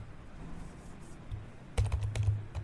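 Quiet clicking of keys on a computer keyboard while Windows network reset commands are entered, faint and sparse at first, then a denser burst of keystrokes toward the end.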